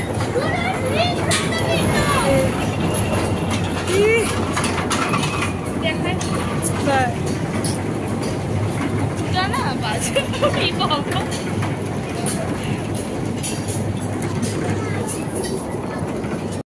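A busy outdoor scene at a toy train ride in Vizag, with a constant rumbling ride and clattering motion, children's voices and chatter overlapping throughout.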